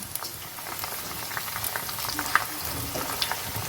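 Sliced onions fry in hot oil for Malabar chicken biryani, giving a dense, steady bubbling sizzle with scattered crackles and pops, close and fairly loud, no talking.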